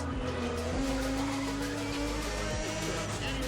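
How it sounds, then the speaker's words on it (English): Tires squeal steadily through a drift in Need for Speed ProStreet, layered over a loud, continuous car engine drone from the racing game. "And old games had really good car audio as well."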